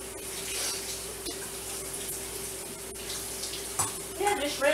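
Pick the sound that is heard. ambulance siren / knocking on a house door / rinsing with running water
rinsing with running water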